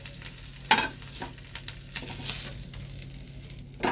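Potato tikka coated in gram flour batter lowered gently into hot oil: a steady low frying hiss with a sharp knock near the start and softer crackles throughout.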